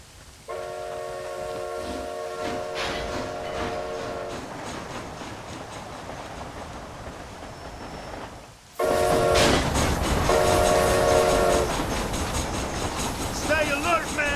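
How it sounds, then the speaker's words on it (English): A steam-era train runs in the zombie western game Red Dead Redemption: Undead Nightmare, its horn sounding in steady tones over a loud rolling rumble that briefly dips, then returns louder with another horn blast and rattling. "This train headed for Mexico?"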